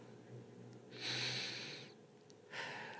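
Two slow, breathy exhalations, the first long and airy, the second starting a moment later, close and fairly quiet against a soft hum.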